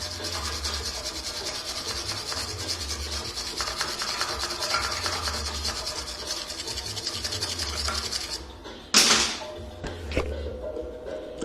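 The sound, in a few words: grinding back a Range Rover P38 bumper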